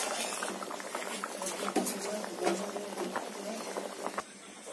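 Mung dal with a fish head bubbling in a pot, a steady close bubbling and popping, with a voice talking faintly beneath it.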